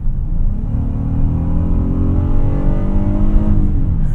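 A 2021 Honda Odyssey minivan with its V6 accelerating hard in sport mode, a loud, steady engine note rising in pitch throughout with no speech.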